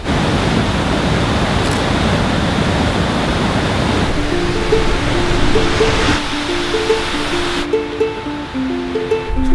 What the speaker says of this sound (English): Pretty awesome waterfall out there.